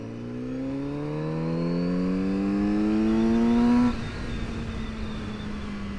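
A Kawasaki Z900RS motorcycle engine revs up steadily, its pitch climbing through a gear over several seconds, then drops as it shifts and continues pulling.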